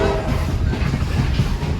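Conway Scenic Railroad passenger train rolling along its tracks toward Mount Washington, a steady low rumble and rattle of the cars heard from on board, continuous and fairly loud with no clear clicks standing out.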